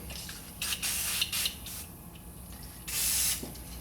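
Aerosol lube sprayed onto the adjusting needle of an old-style Keihin carburetor with a knob, in three short hissing bursts, the last one longest, close by with no talking.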